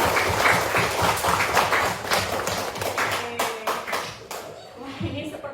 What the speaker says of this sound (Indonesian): kita kasih tepuk tangan yang hebat untuk Mbak Bilkis.